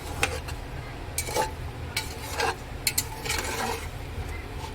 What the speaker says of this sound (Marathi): मस्त असा पनीर पुलाव तयार आहे. असा हलवून घ्यायचा आहे